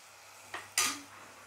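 A spoon scrapes twice through a coconut and jaggery kozhukattai filling in a pan, a faint short swipe followed by a louder, brighter scrape against a quiet background.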